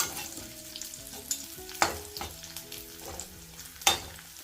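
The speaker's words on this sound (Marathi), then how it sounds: "छान तळून घेते जर्दाळू छान तळले गेलेत" Dried apricot pieces frying in hot fat for a fenugreek, edible-gum and dry-fruit laddu, a steady close sizzle with two sharp stirring scrapes against the pan, no voices.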